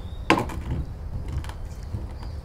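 Ginger and spice seeds being crushed by hand give one sharp, crunchy crack, then a run of softer grinding and grating scrapes, close and fairly quiet.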